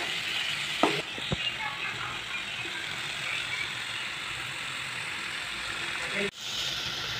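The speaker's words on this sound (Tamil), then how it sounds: "இந்த சிக்கன் நல்லா சுருண்டு வரணும், அது வரைக்கும் நம்ம நல்லா வதக்குவோம்." Chicken sautés in hot oil with onion, ginger and garlic for pepper chicken, a steady close sizzle throughout, broken by a couple of sharp stirring clanks near the start.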